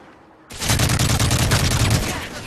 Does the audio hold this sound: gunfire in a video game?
yes